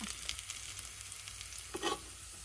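Pork fat frying in oil into chicharon, a soft, continuous crackling sizzle with a brief louder burst of popping near the end, with no voices.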